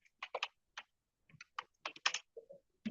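Close, quiet keystrokes on a computer keyboard come in short, uneven bursts with brief pauses between them as a bot flow name is typed.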